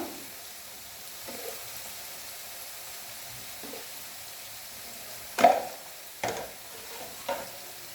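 Chili pickle with turmeric is stirred in a pan, giving a faint steady sizzle with a few sharp scraping clinks of the spoon against the pan toward the end.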